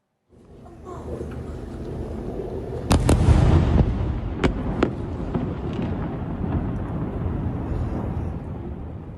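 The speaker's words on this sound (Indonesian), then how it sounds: "Suara dentuman serangan Israel menggema di Lebanon Selatan bersamaan dengan kilatan cahaya" Israeli strikes with phosphorus shells hit South Lebanon, loud booming blasts with a heavy crack about a third of the way in and a few sharper pops after, over a rolling, rumbling background.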